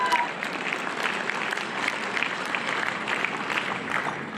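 Audience applause for a band at a Hillel program rolls on steadily at moderate volume, a dense field of many hands clapping without pause, with scattered voices faintly mixed in.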